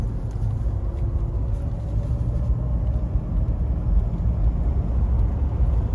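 A 1989 Mercedes-Benz 420SEL on a test drive gives a steady, low road rumble and engine drone from inside the car, unbroken and without talk.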